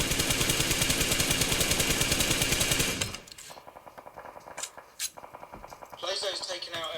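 Rapid automatic gunfire from the battle royale game PUBG rattles loudly for about three seconds, then trails into sparse, scattered shots and a few sharp bangs, with voices talking over it.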